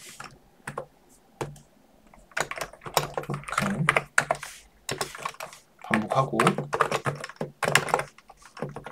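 Computer keyboard keys clatter in irregular bursts of quick clicks while code for a loop in an object-oriented programming homework is typed, with someone talking intermittently between and over the keystrokes.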